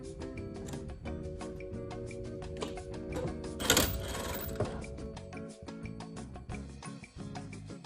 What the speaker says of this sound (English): we're going to sew around the front opening of our hood with a 1 centimetre seam